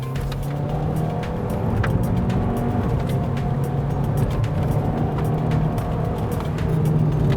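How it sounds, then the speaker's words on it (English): A car takes a tight corner on a wet mountain road up Genting Highlands on Continental UC7 tyres, giving a steady, loud engine and road drone with continuous tyre hiss throughout, no voices. "We are taking this tight corner and the grip is really good."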